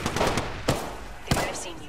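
Gunfire in Apex Legends: three sharp shots spaced across the moment, punching through a busy game soundscape with a voice speaking underneath.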